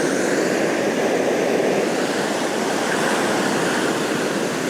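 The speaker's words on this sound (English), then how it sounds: "with these waves you really can feel the force of nature" Ocean surf rolling in against a shore below a headland in Hiroshima on a grey day, a steady, loud, continuous roar of breaking waves with no clear pauses between sets.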